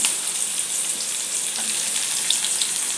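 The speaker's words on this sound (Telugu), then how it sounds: "బాండల్లో నూనె వేసాను. ఇప్పుడు ఎర్రగడ్డలు వేసేస్తున్నాను." Onions frying in oil in a pan, a steady, dense sizzle that stays loud and even throughout with faint crackles and no talking.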